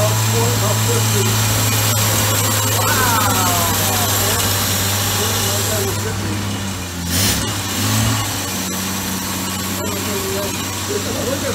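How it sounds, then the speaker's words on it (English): Series 1 Jaguar E-Type engine running on its first start after 30 years, a steady low idle with a rev rise partway through, up close under excited talk. "Have you ever heard this car run?"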